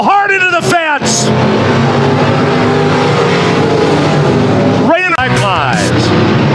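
Sport modified race cars roar loud and continuous at a dirt oval, engines droning steadily with bursts of commentary talk at the start and near the end.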